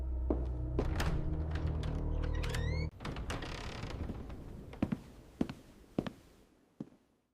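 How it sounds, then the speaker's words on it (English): A door opens in a school common room: a low sustained rumble stops abruptly, followed by a scatter of sharp knocks and clicks, close and moderately loud, with no talk. "Someone is opening the door."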